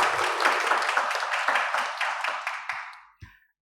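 Applause from a Tamil Catholic Mass congregation thanking a priest, a dense sustained clapping that carries for about three seconds, then thins and stops, with one last lone clap just after.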